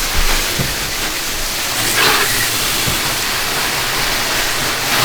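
A strong spray of water rinsing soap off a car during a touchless sealant wash, a continuous loud hissing rush with slight swells and no pauses.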